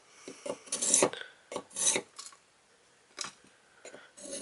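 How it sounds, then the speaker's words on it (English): A fairly large kitchen knife drawn through a Sharp N Easy two-step sharpener, giving about eight quick raspy scraping strokes in uneven bursts, close and clear with brief pauses between passes and no talking. "Let's sharpen a little bit bigger knife."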